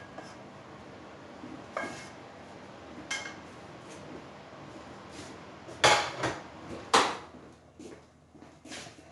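A pan and metal utensils clink and clatter while roasted bacon lardons for a quiche are drained, with scattered knocks and two louder scraping clanks standing out against a quiet kitchen background.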